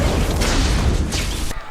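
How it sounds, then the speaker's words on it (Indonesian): A bomb blast on top of a building in a film scene gives a loud, dense, sustained roar of explosion debris, heavy and close, fading at the end. "akhirnya berhasil melempar bom ke atas gedung dan akhirnya meledak"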